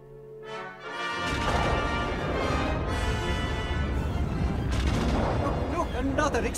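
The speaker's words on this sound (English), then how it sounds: "Explosion." Heavy rumbling explosions and crashing blasts roar continuously in a Star Wars Return of the Jedi radio drama, loud and dense with booming impacts over several seconds.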